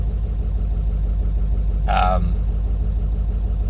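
A Ford 7.3 Powerstroke diesel pickup with 412k miles and leaks everywhere, idling with a steady, loud, close drone and a clacky engine note, plus a brief tonal sound near the middle.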